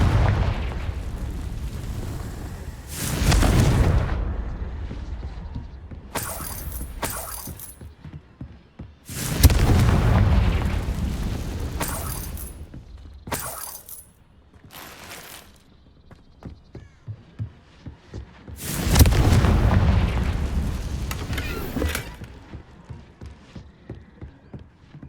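Fiery Confringo spell blasts in the Hogwarts Legacy video game, several loud booming explosions at irregular intervals, each a broad burst that rumbles and fades, with quieter clattering effects between them.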